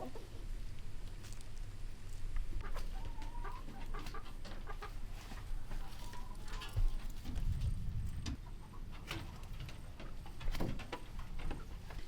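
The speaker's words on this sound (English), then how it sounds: "Chickens everywhere." Chickens cluck and call intermittently outdoors over a steady low background rumble, with a few sharper squawks scattered throughout.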